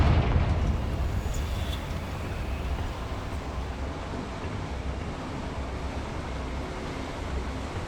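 A Confringo fire spell from Hogwarts Legacy erupts in a loud, roaring blast that settles into a sustained rumbling wash, steady and broad for several seconds.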